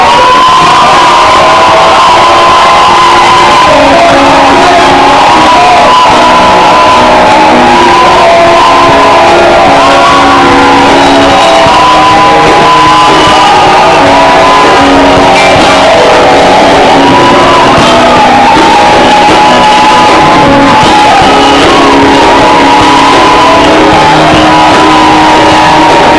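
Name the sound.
crowd shouting for joy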